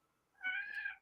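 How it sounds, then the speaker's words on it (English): A cat meows for food, one drawn-out, fairly close call rising and then fading, alone without talk. "I have a cat screaming at me."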